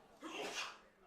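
A single loud sneeze erupts during a high school football broadcast between Elk Rapids and Benzie Central, a sharp burst that swells and fades within about a second, close to the commentary microphone.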